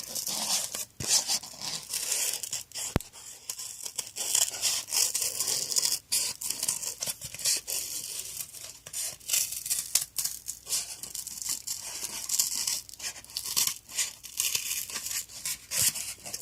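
Scissors snipping through paper to cut out a homemade fidget spinner shape, with steady crinkling and rustling of the sheet and occasional sharper clicks of the blades, close and fairly quiet throughout.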